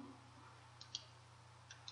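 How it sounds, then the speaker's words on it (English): Computer mouse clicks while changing a sewing order in embroidery software, a few faint, sharp clicks spaced apart over a steady low electrical hum. "All I'm doing is clicking on the arrow"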